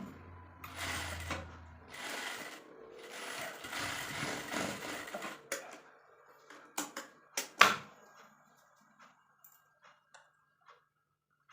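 A sewing machine stitches a blouse, running in a steady mechanical whir for about five seconds and then breaking into short, sharp bursts and clicks before falling quiet.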